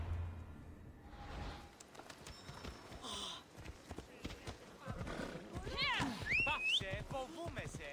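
A horse clip-clops along a road in the open-world game Assassin's Creed Odyssey, with rhythmic hoofbeats and a whinny amid game sounds while someone talks over them.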